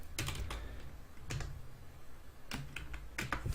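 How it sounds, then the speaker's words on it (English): Typing on a computer keyboard: a few quick bursts of close, soft key clicks separated by short pauses, with no talk. "I'm going to type family here."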